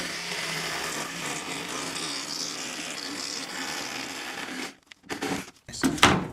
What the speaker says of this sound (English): So I got my Milwaukee hacksaw here and a 18 tooth per inch, I think, somewhere in there, a 12-inch blade.